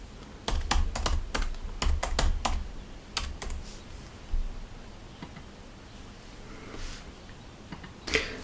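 Computer keyboard typing during data entry: quick bursts of sharp key clicks in short runs, close and fairly quiet, thinning out into sparse taps and pauses toward the end.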